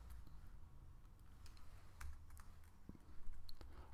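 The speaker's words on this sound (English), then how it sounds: "I just want to type in login," Scattered keystrokes on a computer keyboard, light close clicks spaced irregularly over a faint low background hum, no voices.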